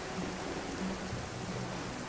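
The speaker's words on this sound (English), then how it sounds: "Just sort of looks like it just started to rain." Steady rain in the video game Genshin Impact, a soft continuous hiss of falling drops with a low rumble beneath, even and unbroken throughout with no voices.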